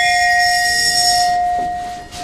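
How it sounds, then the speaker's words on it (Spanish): Rotary club bell struck once to open a ceremony, a clear ringing tone that sustains and slowly decays alone, with no talk over it. "dará inicio al acto como siempre con un golpe de la campana rotaria"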